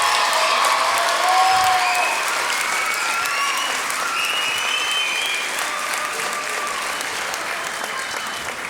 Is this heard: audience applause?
yes